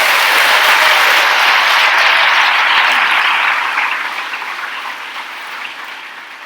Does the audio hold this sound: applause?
yes